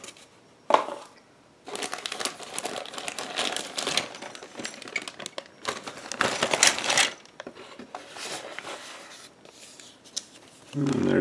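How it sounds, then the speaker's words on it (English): Cardboard is cut and torn away from a 1/422 scale plastic model kit, with bursts of crinkling, scraping and tearing close by, separated by short quieter gaps and a few knocks. "So let me cut the cardboard off here."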